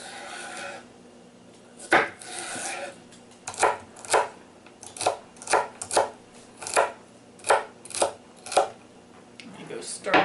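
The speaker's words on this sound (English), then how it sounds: "we're going to go ahead and chop up 1/3 cup of celery, very fine" A knife finely chops celery on a cutting board, first with a few scattered strikes and then a steady run of crisp, evenly spaced chops.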